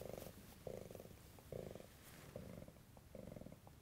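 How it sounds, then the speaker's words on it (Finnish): A cat purrs in a steady rhythm of five or six breathy, rumbling pulses, close to the listener and soft, with nothing else audible. "Sitten se kehrää myös, jos sillä on hyvä päivä."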